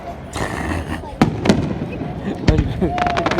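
Fireworks going off over Poole Quay in a crowded outdoor setting, sharp cracks and booms breaking through a constant roar of crowd noise and chatter, with several loud reports and a fizzing crackle near the end.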